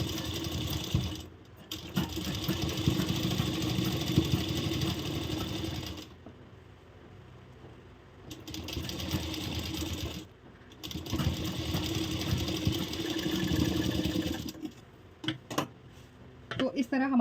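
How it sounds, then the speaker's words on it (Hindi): A sewing machine stitches lace on a katori blouse, its motor whirring in steady bursts several seconds long, separated by brief pauses, close and clear. "साइड से एक सिलाई और चला देंगे।"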